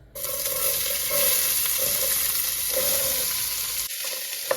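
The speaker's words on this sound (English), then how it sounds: "I've let the oil heat up for a few minutes. So I'm gonna go ahead and add in the chopped veggies." Chopped vegetables sizzle and fry steadily in hot oil in a pan, a loud, continuous crackle that carries on for several seconds before briefly dropping away near the end.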